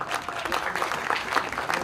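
Audience clapping at the grand teaser launch of the Bollywood film Border 2, a dense steady applause filling the whole stretch, with faint voices mixed underneath.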